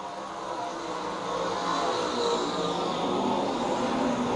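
Stock cars racing at Lakeside Speedway, a continuous roar of several engines at speed, steady and fairly loud with a slight rise partway through, no talk.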